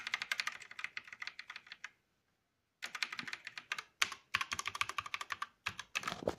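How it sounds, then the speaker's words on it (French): Rapid clacky keystrokes on a Drevo Tyrfing V2 mechanical keyboard with modifiable keys, typed close up in quick bursts, with one pause of almost a second of silence and no voices. "c'est mon clavier, le Drevo, avec les trucs modifiables. Regardez le son."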